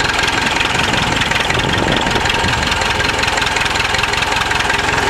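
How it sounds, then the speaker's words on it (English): Massey Ferguson 65 diesel tractor grading a muddy gravel driveway with its blade, the engine chugging loud and close in a steady knocking rhythm throughout. "here I am on my Massey 65. I'm going to lower that blade down slightly, and I'm going to grade my driveway."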